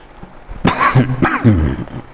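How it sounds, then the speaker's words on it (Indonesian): Two harsh coughs from a preacher during a Ramadan sermon, close and fairly loud, spaced about half a second apart, each with a short raspy tail. "Saking semangatnya ini sampai batuk-batuk."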